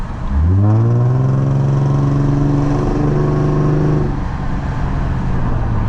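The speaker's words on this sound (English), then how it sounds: "So this is what the exhaust sounds like." A Lexus IS350 engine revs up sharply and holds a loud, throaty exhaust drone for several seconds before easing back to a rumbling idle.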